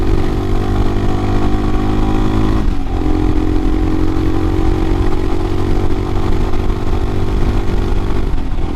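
Royal Enfield Himalayan motorcycle, a 2022 model fitted with a Hitchcocks carburetor conversion, accelerating hard at full throttle on a freeway; a loud, continuous engine roar climbs in pitch, briefly dips at a gear change, then climbs again.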